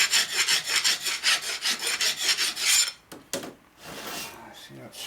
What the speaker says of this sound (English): You're doing big work, you need a big ass file.